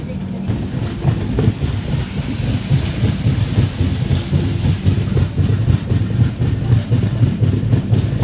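Mandovi Express pulling out of Rajapur Road station on the Konkan Railway in monsoon, a steady loud rumble of wheels and carriages rolling continuously throughout, with faint rhythmic clatter.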